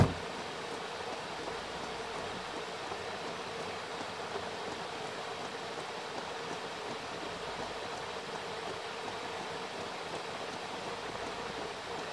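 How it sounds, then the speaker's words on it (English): Heavy rain falls during a drive near Hokitika, New Zealand, a steady, dense hiss that stays constant and fairly loud throughout with no voices. "The rain has eased somewhat."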